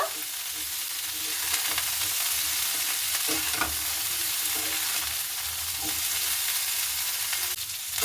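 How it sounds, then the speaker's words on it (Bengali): Eggplant pieces sizzle steadily in a pan of vegetarian cauliflower-stalk chorchori, with scraping stirs now and then over a continuous loud fry. "এবার বেগুনটা দিয়েও ভালো করে নাড়াচাড়া করে নেব"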